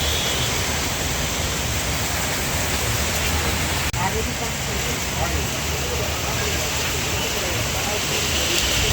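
Heavy rain pouring down in a steady, loud, continuous hiss with a dull rumble underneath, unbroken throughout apart from a brief click near the middle.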